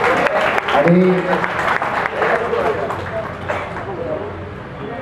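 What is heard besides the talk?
audience applauding loudly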